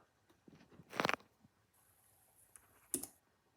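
A computer keyboard is used while preparing a Slackware ARM build host, giving a few light taps and then two louder clattering bursts of key presses, one near the start and one near the end, close and without voices.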